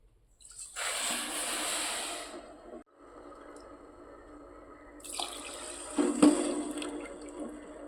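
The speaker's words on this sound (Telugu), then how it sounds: "అదే కప్పుతో కొలత నీళ్ళు కానీ పోస్తున్నాను." Measured water is poured from a cup onto sugar in a pan, with two distinct pouring bursts separated by a short pause and a few light clinks near the end.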